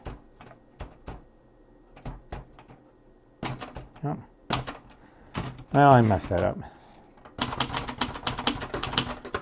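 Sharp mechanical clacks of an antique Royal manual typewriter in irregular bursts, close by, with a brief spoken remark from a person partway through.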